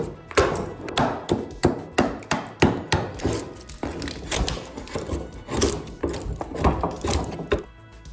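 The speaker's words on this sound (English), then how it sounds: "I start hacking away at it with the hammer" A hammer hacks at a solid wood slab in a woodworking shop, delivering a quick run of sharp, close strikes that grow more irregular as the blows continue.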